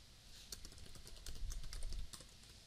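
Soft, quick keystrokes on a computer keyboard while HTML code is typed, a faint run of clicks close by with no talking.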